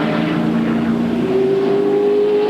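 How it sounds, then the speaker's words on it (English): A NASCAR Pontiac race car at the 1999 DieHard 500 pulls away off pit road, its engine a loud, steady roar with rising pitch as it accelerates, heard alone without talk. "Stewart stalls the Pontiac, now 3 fires, and he's away"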